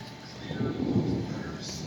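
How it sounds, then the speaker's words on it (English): Thunder rumbles low and steady through a storm, a broad distant roll that swells and slowly fades, with a voice faintly mixed in. "Listen to that rumbles of thunder."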